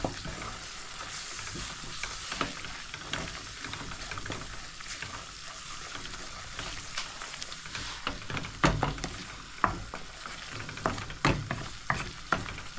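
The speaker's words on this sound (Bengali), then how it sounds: "মশলাটাকে এখন ভেজে নেব" Onion frying with turmeric, cumin, coriander, chilli powder and ginger paste gives a continuous crackling sizzle, with repeated scraping strokes of a spoon stirring the pan, fairly close and without talk.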